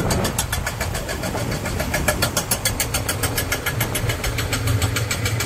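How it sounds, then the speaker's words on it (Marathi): A JCB and trucks labour on a ghat road under construction, their engines rumbling steadily and close with a fast, regular knocking pulse running throughout. "हे बघा इकडे JCB ट्रक वगैरे आहे, त्यामुळे खूप जोरदार पद्धतीने काम चालू केलेलं आहे."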